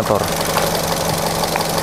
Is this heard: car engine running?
yes